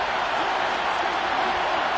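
A steady, dense roar from a stadium crowd in an American football video game, a constant wash of noise throughout.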